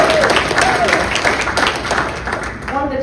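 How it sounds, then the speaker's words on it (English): Audience applause at a public safety roundtable, a loud sustained clapping from a room of people with voices talking over it and faint tonal sounds near the end. "give him a round of applause,"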